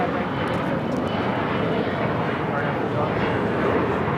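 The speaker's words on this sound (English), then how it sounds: "The next arrival is Air New Zealand Flight 6, coming in from Auckland, the 777 in the All Blacks livery." An Air New Zealand Boeing 777 in All Blacks livery arrives at LAX from Auckland, a steady broadband jet roar holding at even loudness throughout, with voices faintly under it.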